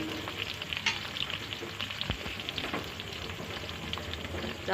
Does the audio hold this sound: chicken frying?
yes